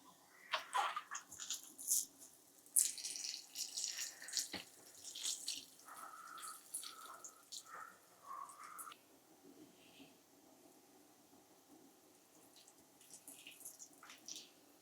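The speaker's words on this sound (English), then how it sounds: "I think pouring it slow gives it time to seep in before it just" Water poured slowly into seed starting mix, soft trickling and splashing that comes in uneven bursts and then fades to a faint seeping hiss, close and quiet.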